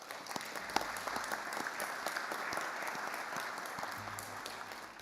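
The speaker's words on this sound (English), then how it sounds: "acknowledge your hard work and scholarly achievements with a round of applause for you all" A graduation audience at the State Library of Victoria gives sustained applause for graduates, a soft, even patter of many hands heard from a distance.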